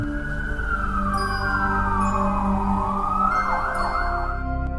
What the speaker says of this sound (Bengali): এই আওয়াজ পুলিশের সাইরেনের সমান